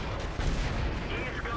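Cannon shots from an AMX 13 75 French light tank in World of Tanks boom with a dense, heavy rumble, close and loud, under ongoing game noise while someone talks.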